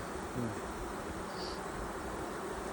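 A steady, close buzzing hum of honeybees being hived in Alaska in April continues throughout, many bees droning together, with no voices over it.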